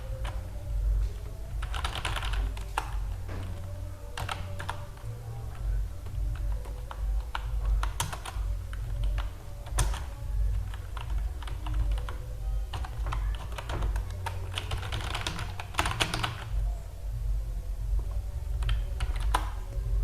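Keys clatter steadily on a computer keyboard as MS-DOS commands are typed, close and fairly quiet, in irregular bursts of taps over a low steady hum, with no talking.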